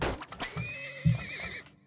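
A horse neighs in the oil-drilling game Turmoil, a clear whinny lasting over a second with a breathy snort near the end, close and moderately loud, with no talk over it.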